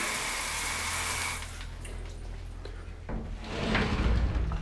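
Water sprays and rinses over a DIY teak shower floor raised on slats, a hissing broadband rush that eases briefly midway and then swells again, close by.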